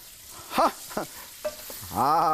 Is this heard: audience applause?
no